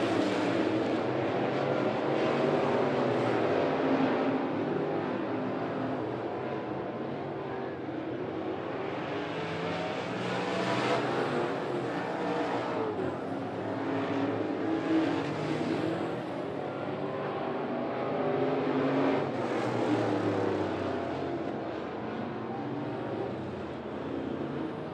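Sportsman race cars roar around the 411 Motor Speedway oval, a continuous heavy engine drone that swells and fades in waves as the pack passes, loud and slightly distant, with no voices.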